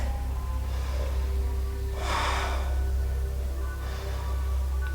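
Slow deep breaths during a hip-opening yoga stretch, two or three soft airy inhales and exhales over a steady low hum of the room.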